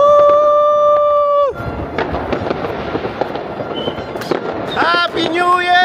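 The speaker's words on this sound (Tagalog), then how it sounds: "Let's go out for the fireworks." New Year fireworks crack and pop in a rapid, irregular volley of bursts, loud and close, with a long whistling tone before and after and people talking and cheering over them.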